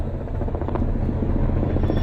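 A helicopter passes overhead in a city, its rotor giving a continuous loud chopping thrum with rapid rhythmic blade pulses and engine whine, fairly close and steady throughout, no voices.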